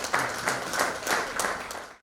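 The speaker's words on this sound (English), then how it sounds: "Please, a round of applause." Audience at an International Women's Day event clapping together in a steady burst of applause that fills the room and cuts off abruptly at the end.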